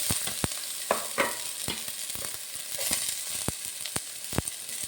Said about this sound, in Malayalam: എണ്ണ ചൂടായിട്ടുണ്ട് ആദ്യത്തെ സബോള ഇടാം